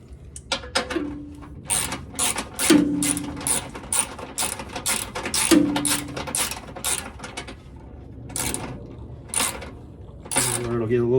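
Wrench ratcheting in quick bursts of sharp clicking while tightening factory bolts on a 2021+ Ford Bronco 2.7L during a Flowmaster Outlaw exhaust install, with short pauses between runs and someone talking in between.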